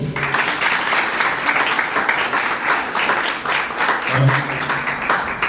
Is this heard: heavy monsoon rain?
no